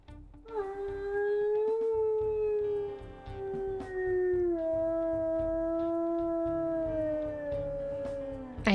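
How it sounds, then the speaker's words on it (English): A wolf in the video game WolfQuest gives one long, clear howl that rises at the start, holds steady and slowly drops in pitch over several seconds, with only faint background sound beneath it. "I think that's the same howl."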